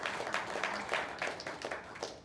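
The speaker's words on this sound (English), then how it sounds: "Yeah, that's worth clapping for too." An audience at a Bitcoin conference talk in Nashville claps for a couple of seconds, a dense, fairly distant patter of many hands.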